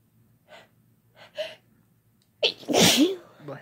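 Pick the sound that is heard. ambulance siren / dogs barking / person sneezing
person sneezing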